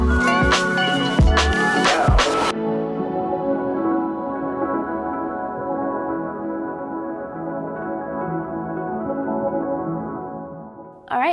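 A sewing machine stitches and back-tacks fabric for an eye mask. A few sharp mechanical knocks open it, then a steady, close motor whine runs on at an even pitch until a brief knock at the end.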